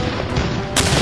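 A volley of 17th-century siege cannons fires together at a wall, a dense, loud, continuous roar of blasts close by with a sharp fresh burst near the end and no voices.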